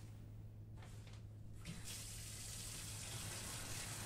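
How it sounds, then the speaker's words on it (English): Shower water running steadily in the horror video game Emily Wants to Play Too, a continuous broadband hiss that swells louder partway through and then holds, with no talking. "Don't worry, guys, it's just shower sounds."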